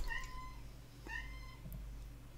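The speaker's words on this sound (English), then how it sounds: "Just ignore the cat meowing." An indoor cat meows twice, a drawn-out call followed by a shorter one, fairly faint over a steady low household hum, with no one talking.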